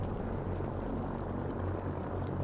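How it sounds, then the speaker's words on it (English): Vertibird helicopters in the video game Fallout 4, a steady low droning rotor and engine rumble, continuous and moderately distant, with no voices. "We've got like helicopter things, dude."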